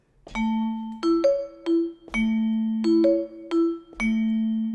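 A musical duo plays a tango rhythm, with plucked or struck notes in short accented groups and sustained bass tones, a clear, close, repeating pattern with no talking.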